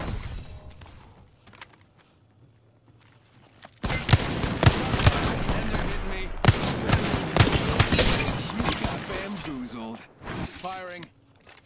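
Dense, loud bursts of automatic gunfire in the video game Apex Legends, erupting after a quiet stretch and rattling on for several seconds with brief gaps, with a voice speaking over parts of it.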